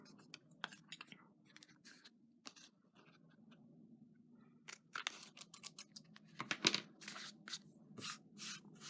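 Scissors trimming paper on an Extra gum box, a run of quiet, close snips and crisp cuts that grow denser and sharper in the second half, with no talking.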